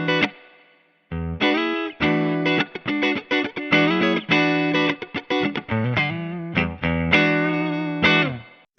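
Electric guitar played through a NAM amp model on a HeadRush unit with light reverb, strummed chords and quick note bursts ringing out with short decays.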